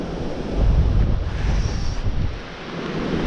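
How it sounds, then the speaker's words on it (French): Strong wind buffets the microphone outdoors beside a castle, a loud continuous rumbling roar that swells and eases in gusts, with no voices over it. "il y a beaucoup de vent, c'est incroyable."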